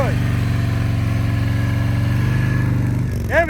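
A motorcycle engine held at low, steady revs during slow-speed riding practice around cones, with a loud, close, continuous drone and a slight throttle blip near the end.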